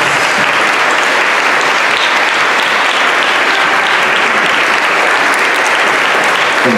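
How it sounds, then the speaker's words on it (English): A dense, loud, unbroken round of clapping from an audience at a choir promotion ceremony honoring young choristers, sustained evenly throughout. "please stand and receive our applause"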